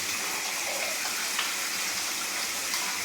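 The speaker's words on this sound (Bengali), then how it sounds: "ততক্ষণ আমি মাংসটা ধুয়ে নিই" Meat being rinsed under a running kitchen tap: a steady, even rush and splash of water that stays constant throughout, with no voices.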